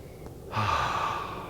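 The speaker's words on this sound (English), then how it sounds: "Let's do that one more time. A deep breath in." A single deep inhale during a guided yoga breathing exercise, a broad airy rush of breath close to the microphone that swells after a short quiet pause and holds steady to the end, with no talking.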